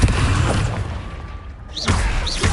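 A Confringo blasting spell from Hogwarts Legacy goes off as a dull, booming blast, with a rumbling tail and a second burst close behind in a noisy battle scene.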